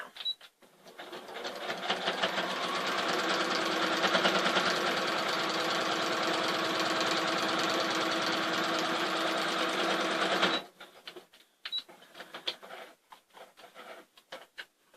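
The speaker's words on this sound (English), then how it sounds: "we'll sew it all the way down through now" A sewing machine stitches steadily through a quilt-as-you-go block for about ten seconds, a dense continuous whir, then stops, followed by soft handling clicks and rustles.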